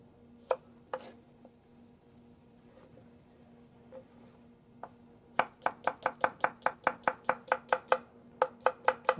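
A chef's knife cuts leek for garnish on a cutting board while preparing braised striped sea bass. A few isolated cuts come first, then a steady, rapid run of about twenty crisp chops, close and alone, with no talking.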